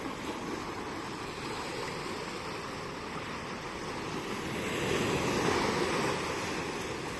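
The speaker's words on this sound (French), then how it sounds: "La mer est montante, visiblement." Sea waves on a rising tide roll in a steady broadband wash that swells a little louder toward the end, with a hint of wind noise and no talking.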